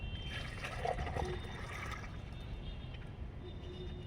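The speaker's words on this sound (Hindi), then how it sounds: "इसको हम चारों तरफ से जहाँ खाद डाली थी वहाँ आधा लीटर के करीब पानी मैंने डाल दिया" Water is poured into the soil around a potted lemon plant, a soft, faint trickle that runs steadily for a few seconds with no talk.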